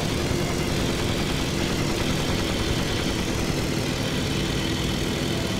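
A WW1 warplane's fixed-throttle engine in a Warbirds flight simulator, a steady loud drone at one constant speed that runs unbroken and without speech the whole time.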